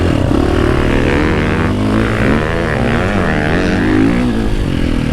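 A motocross bike engine drones loud and close throughout while being ridden, a steady buzzing roar with slight shifts in pitch and no talking.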